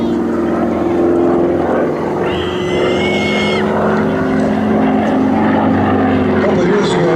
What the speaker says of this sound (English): I think a T6 has a 600 horsepower motor in it